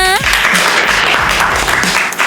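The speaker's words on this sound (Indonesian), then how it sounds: "Tepuk tangan buat Dana." Cartoon children clapping together in a classroom, a dense patter of small hands following a short rising tone at the start, with bits of animated voices and effects mixed in.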